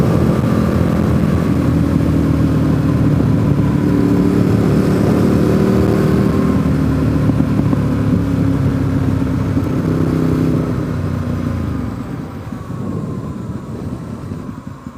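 A motorcycle engine drones loudly and steadily while riding, with the roar easing slightly near the end.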